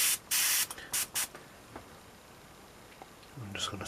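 Aerosol paint sprayed in short bursts onto a Blood Angels Death Company Jump Intercessor miniature, three quick close hisses at the start, then near quiet with faint handling sounds.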